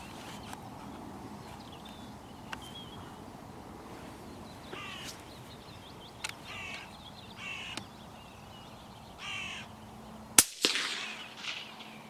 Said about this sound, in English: Thankfully, he paid no heed to the other bird's alarm calls.